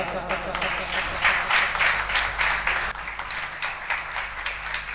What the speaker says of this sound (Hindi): आपकी भरपूर तालियों में जनाब फैसल